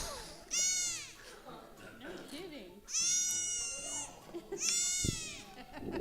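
Baby goats give three loud, quavering bleats spaced a couple of seconds apart, with quieter animal sounds between them.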